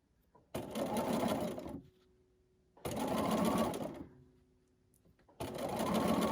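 A sewing machine runs in three steady bursts of fast stitching while curved quilt pieces are joined, each run lasting about a second or so, separated by short pauses with a faint hum.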